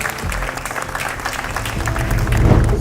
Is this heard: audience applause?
yes